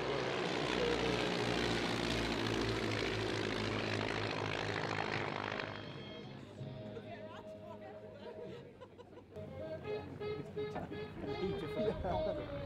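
A light aircraft at a flying display flies a slipping turn, its propeller engine drone loud and close at first, then fading as it pulls away, with crowd chatter and voices around.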